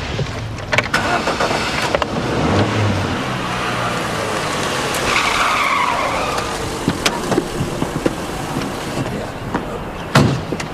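A car engine starts and the car pulls away hard with tyres skidding and squealing on wet ground, loud and close, with sharp knocks and bumps scattered through.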